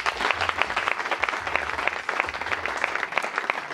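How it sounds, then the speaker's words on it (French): Warm applause from the crowd at a gospel event, continuous close clapping from many hands over a faint low hum, steady and fairly loud without speech. "Est-ce qu'on peut applaudir?"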